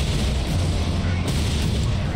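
Heavy cannon fire in Warhammer 40k Space Marine, a dense, continuous roar of booming blasts and rumbling low-end impacts packed together across the whole stretch, loud and close with no gaps.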